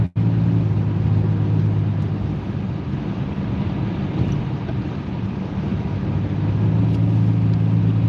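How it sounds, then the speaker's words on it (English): Steady engine and road roar from inside a 2018 Lexus car driving and accelerating on the road, a constant loud low rumble with wind noise and no talking. "I gotta get over one lane, accelerate through the lane change."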